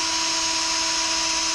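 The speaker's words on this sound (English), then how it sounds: "And I take my drill wand that's been sanitized. Stick her in there and stir it up." A power drill fitted with a sanitized stirring wand whirs steadily and loudly as it mixes mead in a brewing vessel, a constant high motor whine with no talk over it.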